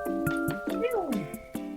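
A voice mimics cat meows, drawn-out nasal mewing cries with rising and falling pitch, close and fairly loud, repeated three or four times in under two seconds with no real cat present.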